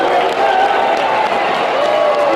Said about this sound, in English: You can give her a huge round of applause if you want.